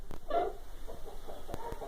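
A Japanese gamecock rooster gives a brief, soft cluck, faint and close, followed by a few small scattered clicks.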